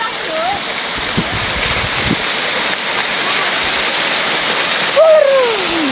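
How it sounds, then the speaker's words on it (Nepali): A mountain stream and waterfall pour in a loud, steady rush of water close by, unbroken from start to finish, with brief voices rising over the roar near the start and end. "यो चाहिँ हामी खोला है खोला हेर्नु होला खोला चढ्दैछौँ"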